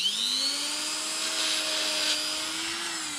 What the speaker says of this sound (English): So we got a little Dremel. I put some brake clean in there, and we're gonna just try and clean this up.